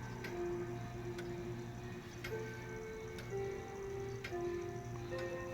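Gazo Rancho Santa Fe grandfather clock with an Urgos movement ticking steadily, a crisp regular tick-tock around one beat per second over a faint hum of room noise.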